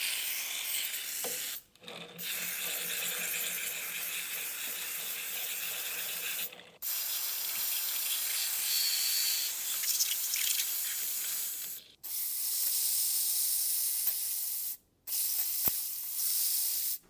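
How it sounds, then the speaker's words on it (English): Brake cleaner sprays in long bursts to flush the bearings of a Laverda motorcycle engine during a restoration, a loud close hiss broken by four short pauses. "next we're going to flush out the bearings with a whole lot of brake clean"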